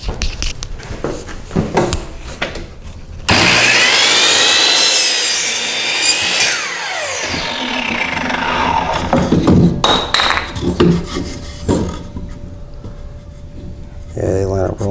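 Miter saw cutting 45-degree bevels in wood, with a loud whining cut that rises and falls, then the blade spinning down, surrounded by clatter, handling noises and brief talk.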